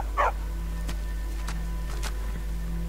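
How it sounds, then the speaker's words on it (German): A war dog in Skyrim gives a few short, sharp barks spaced about half a second apart over a steady low game drone. "Ich mag diesen Bellen überhaupt nicht."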